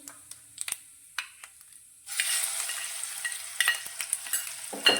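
Garlic-chili paste sautéing in hot oil with spices and asafoetida for a Gujarati valor-brinjal curry, a quiet stir and tap at first, then a steady bright sizzle rising and holding close by with occasional spoon clinks.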